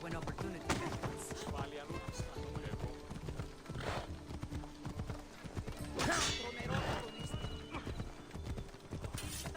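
A horse gallops in the video game Assassin's Creed Odyssey: close, quick clip-clop hoofbeats in a steady galloping rhythm, with a couple of neighs and snorts and someone talking over them.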